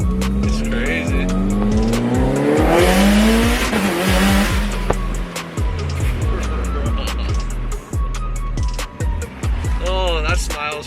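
A Mitsubishi Evo 8 with a titanium exhaust manifold and aftermarket coils accelerates hard. The engine roars loudly and steadily throughout, with rising revs and gear changes, as people talk over it.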